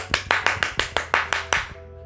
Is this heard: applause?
yes